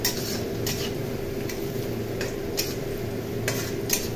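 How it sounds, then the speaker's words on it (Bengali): Onions fry in a pot for biryani, a steady close sizzle broken by regular metallic clinks and scrapes of a stirring spoon against the pot's side. "আর এদিকে এখন পেঁয়াজ ফ্রাই করা চলছে"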